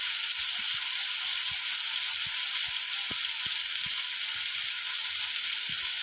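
Food sizzles steadily in a black iron wok, a constant bright hiss of frying with scattered faint clicks and taps from stirring, no voices.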